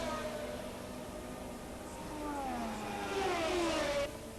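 1981 Formula 1 race cars scream down the straight as Piquet overtakes Tambay and closes on a Ferrari. Overlapping high engine whines shift and climb in pitch, swelling louder before cutting off abruptly.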